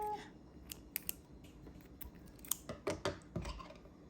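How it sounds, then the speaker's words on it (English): Scissors snip crochet yarn in a few quiet, close, crisp clicks and cuts, spaced irregularly over a few seconds with soft handling noise around them. "Cut off your string."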